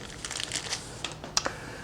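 A plastic-wrapped mozzarella cheese package is cut open in a few short, close crinkles and sharp snips, the last two clicks the loudest, with no talking.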